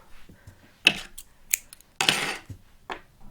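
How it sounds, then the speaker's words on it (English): Scissors cut a piece of beading thread in a few crisp, separate snips with quiet handling noise in between, close and sparse. "First we cut a piece of thread"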